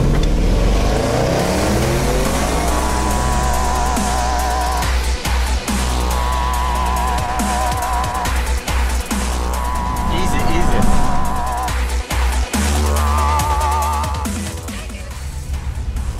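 Two cars in a drag race, a 340-horsepower car against a 500-horsepower one, roar loudly as they accelerate hard through repeated gear shifts, engines climbing and dropping in pitch, with voices talking over the noise.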